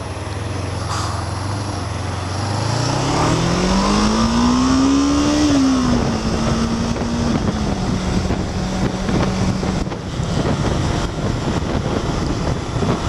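A Kawasaki GPZ500S motorcycle accelerates onto a dual carriageway, its engine note climbing steadily through the gears, then holding a steady cruising drone under loud, continuous wind buffeting.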